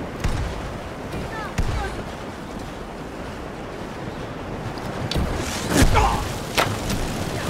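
Fire mage spell blasts from Skyrim hit in a few sharp, heavy bursts spread across several seconds, rising over a steady rushing, wind-like ambient wash.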